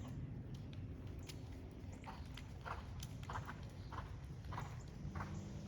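A horse in a riding lesson canters on the right lead, soft rhythmic hoof beats on an arena surface recurring steadily throughout, fairly faint against a background hiss.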